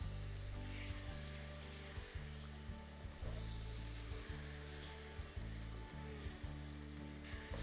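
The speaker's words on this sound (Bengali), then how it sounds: "আদা রসুনটা একটু কষানো হয়ে গেছে" Ginger and garlic sizzling in hot oil for a spicy chicken korma, a steady dense crackle with low background hum, close and fairly quiet, no talking.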